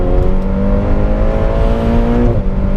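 A turbocharged Ferrari Portofino engine revs up close, its pitch climbing steadily for a couple of seconds before easing off and dropping back.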